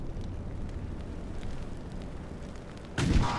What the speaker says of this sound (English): Why am I suddenly firing again?